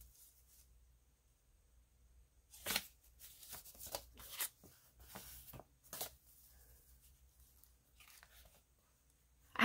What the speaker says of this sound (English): This is an old envelope.